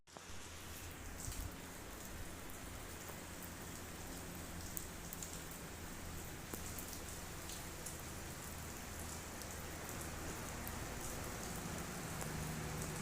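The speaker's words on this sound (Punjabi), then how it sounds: "ਬਾਹਰ ਬਹੁਤ ਜ਼ਿਆਦਾ ਬਾਰਿਸ਼ ਹੋ ਰਹੀ ਆ" Steady, heavy rainfall hisses continuously throughout, a dense wash of drops with no voices and no breaks.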